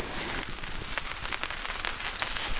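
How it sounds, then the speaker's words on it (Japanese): Heavy rain drums steadily on a Snow Peak Dock Dome Pro.6 tent at a campsite, a dense, even patter with occasional sharper drops and no voices. "しっかり雨っすね。"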